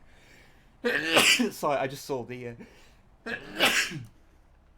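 A person sneezes loudly up close, then speech follows, and another burst comes shortly after.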